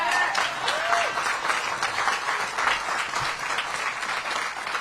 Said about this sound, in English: the person who has led the comeback a round of applause for all that she's done